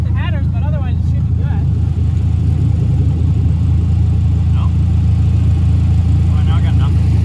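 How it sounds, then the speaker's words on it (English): A straight-piped truck idles with a loud, steady low engine rumble throughout, with brief chirpy voices and noises drifting over it. "Because the straight pipe truck in the background."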